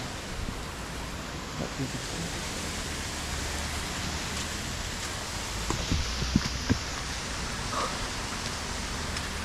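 Steady rain falling outdoors at a quiet site, a broad continuous hiss with a few faint taps and knocks, no talking.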